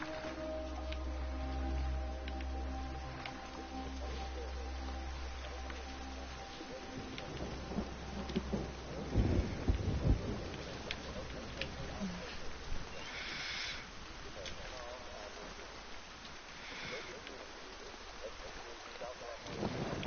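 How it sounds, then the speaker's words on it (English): Thunderstorm in the Everybody's Gone to the Rapture video game, with low rolling rumbles and heavy bursts near the middle over a bed of wind and rain, interrupted by intermittent background noise. "there is actually a storm in the game"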